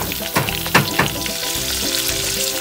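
Sugarcane pieces laid into a hot pan with pork humba, a loud close sizzle and frying crackle with a few soft knocks as the pieces settle.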